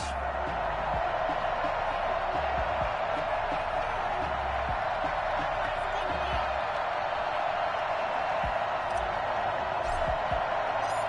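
Steady stadium crowd roar from an EA Sports football video game before a New Orleans Saints versus New York Giants matchup, a dense continuous din at moderate level with no clear cheers standing out.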